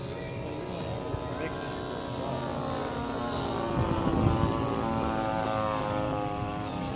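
A propeller-driven dive bomber drones steadily in a flight video game as it comes in to land, the engine hum swelling slightly midway, while someone talks over it.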